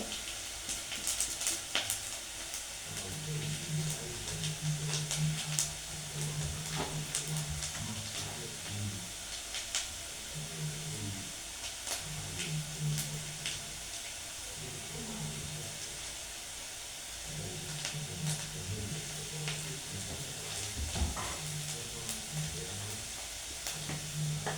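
Fish pieces stirred as they fry in a pan for a fish stew: a steady sizzling hiss with faint scrapes and clinks of the spoon moving the pieces.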